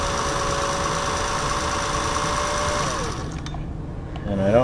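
A Singer 401A sewing machine runs steadily after lubrication with an even mechanical whir, then winds down and stops near the end.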